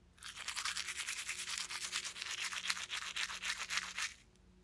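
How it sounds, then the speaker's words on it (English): A toothbrush scrubs back and forth in quick, even strokes, a close, bristly rasp that continues steadily for about four seconds before stopping. "T. Toothbrush."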